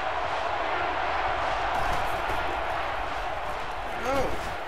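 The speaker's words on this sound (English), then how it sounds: "The crowd is really letting them hear it." Stadium crowd in NCAA Football 12 at Kentucky roars steadily throughout, a dense, loud wash of cheering with a brief swell near the end.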